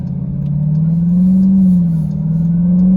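A 2021 Dodge Durango Hellcat SUV pulls hard in sport mode, its supercharged engine holding a steady, loud low drone that climbs gradually over three seconds, alone with no talk.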